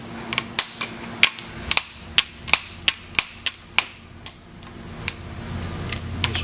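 A channel-lock pliers bends a GrassFlap bracket on a 2019 or older Wright stand-on mower, giving a run of about fifteen sharp metallic clicks and snaps at irregular intervals, close and distinct.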